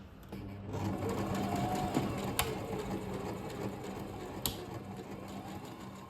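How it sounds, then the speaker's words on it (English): A sewing machine runs steadily for about six seconds, stitching the edge of obi fabric with the print sides facing together. It gives a close, even mechanical whir with a couple of sharp clicks. "you want to face the print side together and sew the edge"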